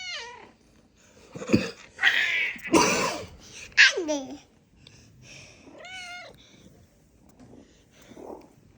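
A cat meows several times beside a baby, who babbles and laughs between the drawn-out mews; the sounds come close and intermittent, with quiet gaps.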